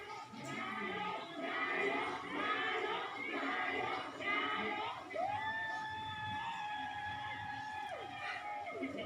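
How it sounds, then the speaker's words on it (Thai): A large Thai political rally crowd shouts a rhythmic chant of "Prime Minister," repeated rallying calls over a loud roar, followed by a sustained siren-like tone. "แล้วเสียงตะโกนก็คือนายก นายก นายก"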